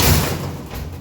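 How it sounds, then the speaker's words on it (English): Heavy door of a 1960s Eastern freight elevator, low on oil, slams shut with a single loud, close thud at the start that decays into a low rumbling ring. "The door is just crazy heavy."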